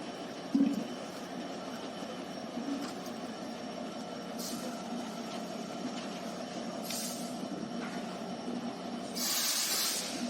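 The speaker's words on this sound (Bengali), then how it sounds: "ট্রেনটা আবার এখান থেকে ছেড়ে দিয়েছে" A train pulling out of Sirajganj station rumbles with a steady low drone, punctuated by brief bursts of hissing air, moderately loud and continuous without talk.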